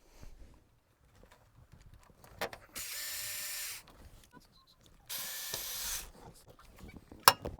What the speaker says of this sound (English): Put the 3 screws with the Phillip and tighten it